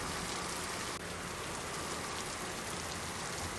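Steady rain from a tabletop game session's ambient soundtrack, a dense, continuous hiss of falling drops that holds evenly from start to finish with no voices over it.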